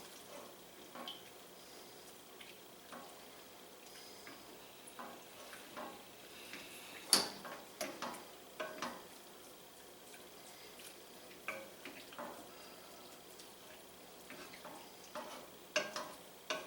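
Ropa vieja ingredients being gently stirred in a pan: soft, scattered clicks and scrapes of a utensil with a light sizzle underneath, quiet and irregular, with no talking.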